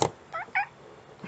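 A cat gives two short meows close by in a quiet room, with a brief knock at the start.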